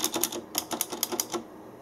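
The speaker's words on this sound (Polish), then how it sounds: "Cherry MX Blue, czyli specyficzne przełączniki. Można je poznać po takim specyficznym klikaniu." Cherry MX Blue mechanical keyboard switches on a Cm Storm Mech keyboard click in a quick, crisp run of keystrokes, close and clear with no talking.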